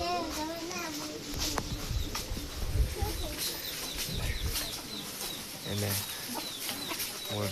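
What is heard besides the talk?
chickens and chicks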